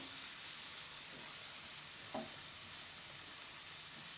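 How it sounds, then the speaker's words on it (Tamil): Chopped tomatoes and vegetables sautéing in a pan until saucy, a soft continuous sizzle with a couple of faint stirring scrapes, heard alone and fairly quiet. "அதையும் இதில் சேர்த்துட்டு நல்லா வதக்கிக்கணும்"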